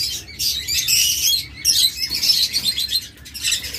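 Fischer's lovebirds chirp in bright, rapid bursts of shrill, overlapping calls, loud and close, with brief pauses between flurries.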